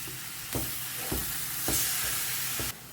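Chopped tomatoes with salt fry in a hot pan, a loud, close, continuous hissing sizzle punctuated by several stirring scrapes and thumps, ending abruptly, with no speech.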